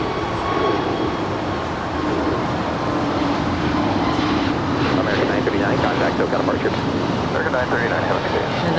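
An American Airlines A321neo jet roars at LAX, producing a loud, steady broadband rumble throughout with wind buffeting the microphone.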